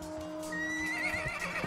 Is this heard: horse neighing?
yes